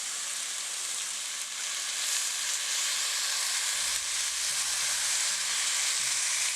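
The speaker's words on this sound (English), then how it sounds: "And now we're going to saute our rice." Jasmine long-grain rice sautéing in a hot pan, a steady broadband sizzle and hiss lasting throughout with faint low rumbling stir noises in the latter half, close and even, with no talking.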